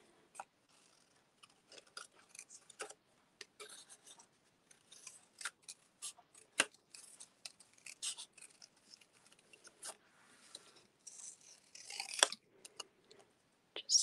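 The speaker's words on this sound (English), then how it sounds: "And I'm going to fussy cut that part out." Scissors fussy cutting around a paper shape for a papercraft easel box: many small, quick snips, close and fairly faint, with uneven pauses and no talk.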